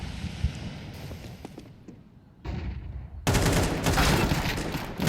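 Sustained automatic AK-47 rifle fire in Counter-Strike on the Dust 2 map during a match, with bursts of loud, rapid shots that thicken into a dense, continuous volley in the second half.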